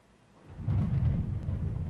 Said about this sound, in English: See, this is a mixture of a thunderclap.